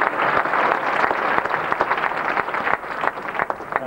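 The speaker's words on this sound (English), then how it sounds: "a round of applause." An audience applauds the sponsor Entertronic Musical Engineering Private Limited at the EML Synthecom 1990 show, producing a steady, dense wash of many hands clapping that carries on for the whole stretch with no voices over it.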